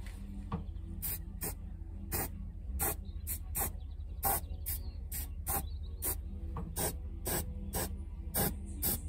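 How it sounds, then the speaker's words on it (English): Aerosol spray paint hissing in repeated short bursts onto spacers during a narrowboat build, about a dozen quick sprays in an uneven rhythm over a steady low hum, close to the microphone. "So just give this a quick spray."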